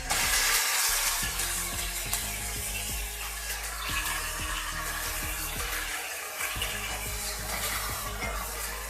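Chicken pieces going into hot oil with fried garlic in a pan, giving a steady broadband sizzle with wet crackling and a few clinks, loud at the start and then settling into continuous frying, no talk.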